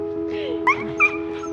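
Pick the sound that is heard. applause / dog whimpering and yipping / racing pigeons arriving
dog whimpering and yipping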